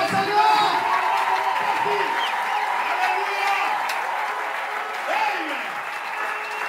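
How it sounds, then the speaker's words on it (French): A church congregation applauds and cheers for the Lord at a French-language gospel service, sustained loud clapping from a large crowd with scattered shouts and a voice speaking over it. "Acclamons très fort pour le Seigneur."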